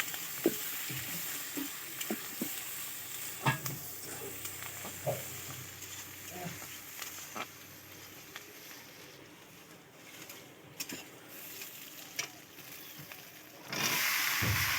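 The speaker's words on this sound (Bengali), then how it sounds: "একটু কাঁচা লঙ্কা দিয়ে দিলাম। দিয়ে এটা একসঙ্গে একটু হালকা ভেজে নেব" Chopped onion and green chili fry lightly in a pan, giving a soft, steady sizzle with scattered stirring clicks, then growing louder near the end.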